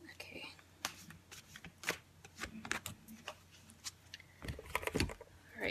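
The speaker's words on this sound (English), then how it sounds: "I'm gonna go ahead and shuffle this real quick since cards are kind of sticky." A deck of sticky cards being shuffled in quick, crisp flurries of riffling clicks, close by and moderately quiet, with soft low speech in the background.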